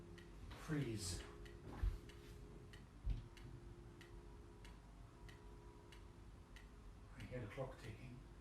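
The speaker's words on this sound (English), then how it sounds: "I hear the clock ticking." A clock ticks faintly and steadily during an artistic research talk, with a few louder clunks and voices talking at the start and end.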